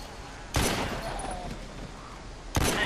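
Gunfire in The Walking Dead: Survival Instinct, heard as two sharp, loud shots about two seconds apart over a low background hum.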